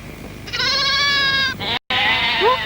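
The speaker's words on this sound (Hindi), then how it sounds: "वो देखो, भेड़ी भी चीख रही है।" Sheep bleating nearby at night, one drawn-out bleat followed by a second shorter call, over low background noise.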